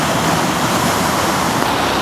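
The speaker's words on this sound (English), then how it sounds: "there's where it's dammed and the water's coming out over there on the left" Water rushing out below a hydroelectric dam makes a steady, dense roar, loud and unbroken, with no voices over it.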